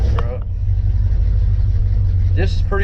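A retired fire department 1971 Dodge W200 brush truck with no choke starts cold and settles into a close, low, steady rumble, with someone talking briefly before and after.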